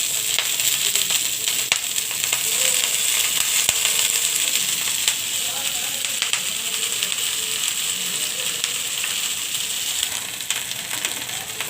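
Dudh shak leafy greens sizzling in a hot karahi, a steady bright frying hiss running close and continuous throughout, with scattered crackles and a few faint clinks of a stirring utensil.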